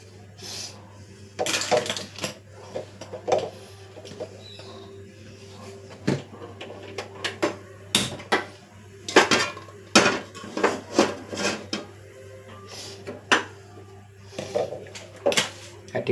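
A cooking pan is set onto a stove, with repeated sharp metallic clanks and knocks of pots and utensils, some louder hits scattered over a low steady hum.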